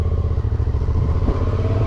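Motorcycle engine droning steadily while riding on country roads in the Loire valley near Blois, loud and close with a rough, throbbing low rumble and light rattling.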